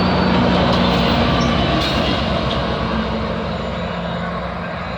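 A GO train passing on the CN Oakville Subdivision at Mile 32, a loud steady rumble and roar of engine and rolling cars that holds throughout and fades slightly toward the end.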